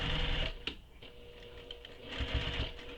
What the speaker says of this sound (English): I'm going to go back down and sew another row of stitching